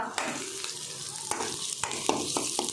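Onions and okra frying in a pan for a buttermilk curry, with a close crackling sizzle broken by several sharp scraping knocks of a spoon stirring against the pan.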